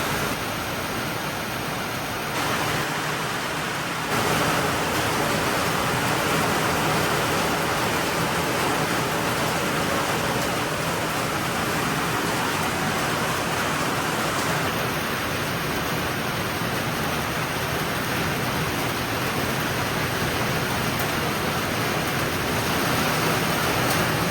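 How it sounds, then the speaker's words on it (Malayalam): A loud, steady roar of wind and heavy rain fills the whole stretch, unbroken and close, with no voices. "കാറ്റ് വീശാൻ തുടങ്ങി അവസാനം നല്ല കാറ്റായിട്ട് പിന്നെ അത് നല്ല മഴയായി"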